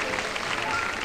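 A studio audience on a 1987 Turkish TV game show claps together as a contestant is welcomed, a brief, steady wash of applause at moderate level.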